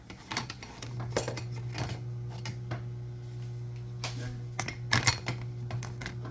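A spoon stirs pasta noodles in a metal cooking pot for shepherd's pie, giving close, irregular clinks and scrapes over a low steady hum.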